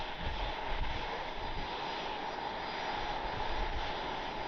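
A Boeing 737 airliner taxis at Cleveland Hopkins airport, heard from a distance as a steady, fairly faint jet engine whine and roar that holds constant throughout.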